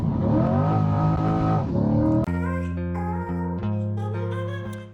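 Chevrolet Corvette C8 Z06 on replica wheels pulling away, a strained near engine rising through smooth climbing tones, then brief upshift breaks and steady higher revs as it fades slightly.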